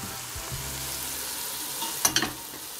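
Spinach filling stirred in a pan with the heat off, a low background hiss with a few quick scraping clicks of the spoon against the pan near the end.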